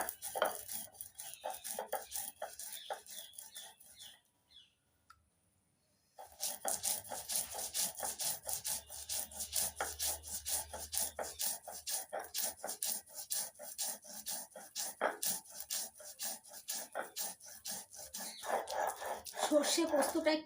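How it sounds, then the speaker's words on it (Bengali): White mustard and poppy seeds being ground with a little water on a stone, a steady rhythmic rubbing and scraping that runs throughout, pausing briefly near the start and then resuming with the same strokes. "সাদা সর্ষে, পোস্ত, এবার একটু জল দিয়ে এগুলো একটু বেটে নিচ্ছি।"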